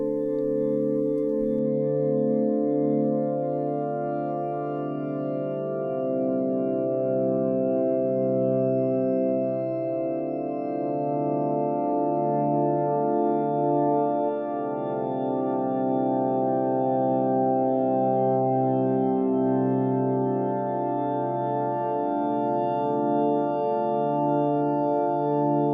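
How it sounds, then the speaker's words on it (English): Glassy ambient pad built from pure sine waves in Omnisphere, washed in dense, wide reverb; sustained layered tones shift gently between chords, steady and smooth throughout with no voices. "So the end result is this really beautiful, pure, glassy ambient pad."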